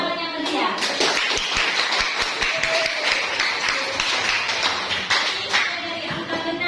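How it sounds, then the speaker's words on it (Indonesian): Classroom applause for student group 4, many hands clapping in a dense, sustained burst with sharp individual claps standing out, lasting the whole stretch at steady loudness with a few voices mixed in. "Beri tepuk tangan yang meriah."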